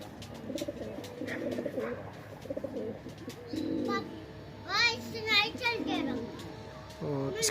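Madrasi pigeons, paired birds including a male, coo in a series of soft rolling calls in the second half, close by, after a stretch of someone talking and a voice.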